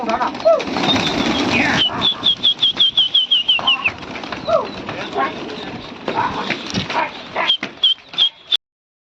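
Pigeons flap their wings in a rapid run of close, rhythmic wingbeats during a Lucknow pigeon-flying session, with a few shorter flutters later. People talk loudly throughout.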